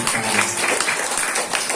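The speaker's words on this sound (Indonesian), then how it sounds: "Tepuk tangan buat Nabi Muhammad kita" Audience applause at an Isra' Mi'raj commemoration of the Prophet Muhammad, a dense, steady wash of clapping filling the short moment with no pauses.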